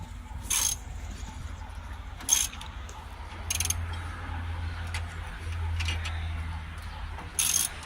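A car jack ratchets under a 1948 Chevy fitted with Jaguar suspension, giving sharp metallic clicks at irregular intervals over a low background rumble.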